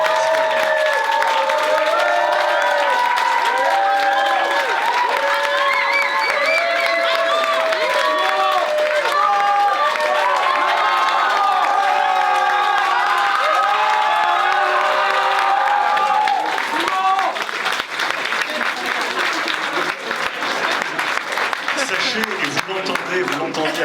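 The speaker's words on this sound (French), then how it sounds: "j'aimerais qu'on les applaudisse très fort" Audience at a certificate ceremony applauding and cheering for educators, loud sustained clapping with whoops and shouting voices, the crowd noise swelling and staying dense throughout.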